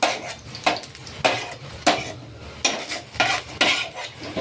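Fried onions being scooped out of hot oil in a pan for a restaurant chammanthi, with repeated metal scoop clanks and scrapes against the pan over a faint sizzle.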